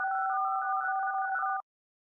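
A tense electronic telephone tone from a horror video game sounds as one steady, loud tone that holds for about a second and a half and then cuts off into silence.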